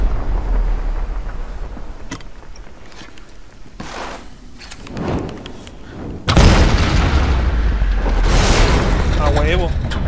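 A sudden deep boom bursts out partway through in the Tomb Raider video game, in a gas-filled cave, followed by sustained loud rumbling debris. Voices talk over it throughout.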